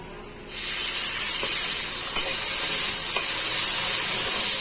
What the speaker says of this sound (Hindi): अब डाल देंगे इसमें हम हमारा टमाटर, जिसको काट के रखे थे